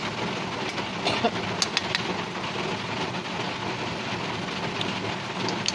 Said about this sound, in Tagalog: Umuulan na naman po sa amin.